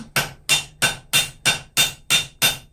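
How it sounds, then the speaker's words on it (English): Eight evenly spaced, ringing blows from a light hammer strike a hot railroad spike on an anvil while the tong jaw is upset, each strike sharp and close with a short decay and no talk. "Okay, so I've switched to a much lighter hammer. And I'm just going to begin to try to upset just the jaw area."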